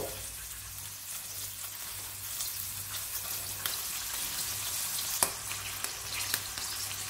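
Red mullet fillets sizzle steadily in a frying pan as they brown, a close, even crackle with occasional sharp pops and light clinks.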